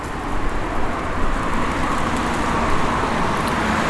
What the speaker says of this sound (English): Some medium traffic sounds.